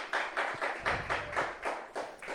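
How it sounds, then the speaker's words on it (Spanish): A church congregation claps, a steady rhythmic burst of hand claps from a modest crowd, fairly soft and evenly paced without voices. "Denle un aplauso a la palabra de Dios"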